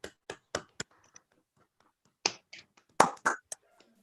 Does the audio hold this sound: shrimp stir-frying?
no